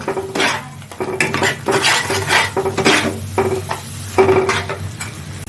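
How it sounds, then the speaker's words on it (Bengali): Ground spice paste for chicken rajma fries in hot oil while a utensil scrapes and stirs it against the pan, giving repeated metallic clinks over a steady sizzle; no one speaks. "আমি এখন তেলের মধ্যে দিয়ে দিচ্ছি। মশলাটা দিয়ে আমি আরো 2 মিনিট কষিয়ে নেব।"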